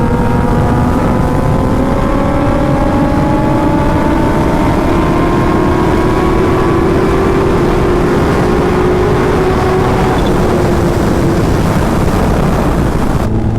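Loud, sustained roar of high-revving sport motorcycles racing on a street, a Yamaha R1 and BMW S1000RR, engine tones rising steadily through the gears under heavy wind buffeting, no talking.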